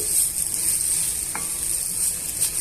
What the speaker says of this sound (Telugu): ఇవన్నీ బాగా మిక్స్ చేసేసుకొని మూత పెట్టుకొని ఒక రెండు నిమిషాలు మగ్గించుకోవాలి